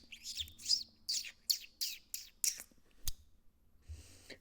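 A human voice imitates birds chirping and twittering, a run of about eight quick high-pitched chirps in a steady rhythm, close and fairly soft, with a short click and a breathy sound near the end.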